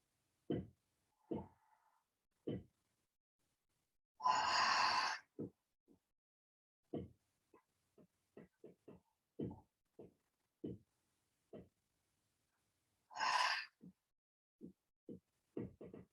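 Slow deep breaths in a quiet therapeutic yoga class come as two long, soft airy exhales, separated by scattered faint clicks and small rustles in near silence.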